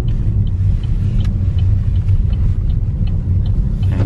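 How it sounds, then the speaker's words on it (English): A car rolls along a narrow country lane in the Cotswolds, a steady close engine rumble and tyre noise that holds for about four seconds with no voices. "There's a car coming."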